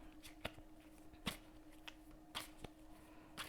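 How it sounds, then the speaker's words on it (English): A deck of tarot cards is shuffled close and quietly, with a few crisp riffles and snaps spaced out over a faint, quiet room. "start off by shuffling the cards thoroughly"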